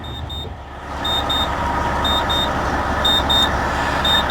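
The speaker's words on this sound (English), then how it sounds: "while we're getting that beeping sound because the belts are loose" Warning beeps sound on a Prevost bus with loose belts, regular pairs of high, clear electronic tones repeating about once a second over a steady engine idle hum while someone talks.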